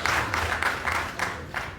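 Audience at a village forum launch breaking into applause, several bursts of clapping from a gathered crowd, fairly close and steady, without talk.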